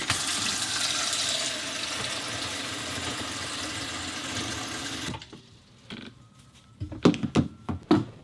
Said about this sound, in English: Let's see how much about 10, 11 seconds worth of water is coming out of the faucet.